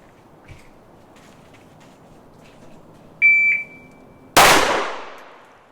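A shot timer beeps on an outdoor range, a sharp electronic tone in two quick pulses, followed by a loud pistol shot from a SIG Sauer P365 Fuse at the 25-yard line.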